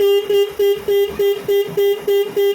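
A car horn beeps in quick repeated bursts, about nine loud honks in a steady rhythm, close by.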